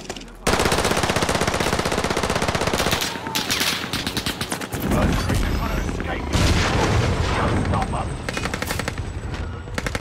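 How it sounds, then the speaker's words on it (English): Grenade blast and sustained automatic gunfire in the Warzone video game, loud and dense throughout, with rapid rattling bursts and booms close by, and a voice calling out over the shooting. "Throwing grenade!"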